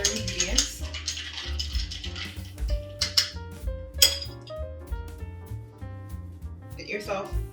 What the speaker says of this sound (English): Then, you want to stir it up a little bit. Make sure that lime juice gets mixed in with all those other ingredients.